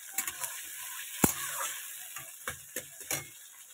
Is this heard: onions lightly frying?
yes